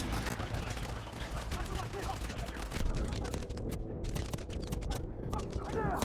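Enemy rifle fire rattles in dense, overlapping bursts during a Call of Duty: Modern Warfare 2 campaign mission, heavy and continuous, with a voice talking over it.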